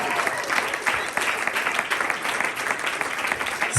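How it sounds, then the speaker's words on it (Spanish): A church congregation claps for Jesus at a Spanish-language sermon on Christ's resurrection, dense steady applause filling the room throughout, loud and close with no talk over it. "Dale palmas a Jesús."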